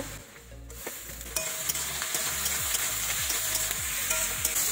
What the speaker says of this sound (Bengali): দিয়ে দেবো পেঁয়াজ, এর মধ্যে বেগুন দিয়ে দেবো